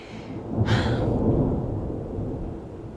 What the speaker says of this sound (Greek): Αυτό ήταν αστραπή.